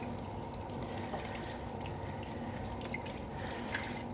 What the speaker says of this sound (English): Just squeeze the water out of it.